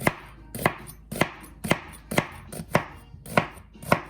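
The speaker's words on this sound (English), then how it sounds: "I like to cut my onions like this, give them a few cuts this way, and then this way" Knife chopping an onion on a cutting board, about a dozen crisp, evenly spaced cuts in a steady rhythm, close and clear with no talking.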